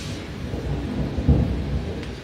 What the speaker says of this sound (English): Can you hear the storm?